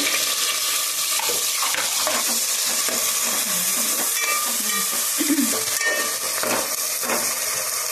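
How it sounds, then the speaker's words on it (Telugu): Sliced onions and green chillies frying in hot oil until browned, giving a loud, continuous close-up sizzle with occasional stirring scrapes. "ఉల్లిపాయలు అయితే ఈ విధంగా ఎర్రగా ఎగుతూ ఉన్నాయండి"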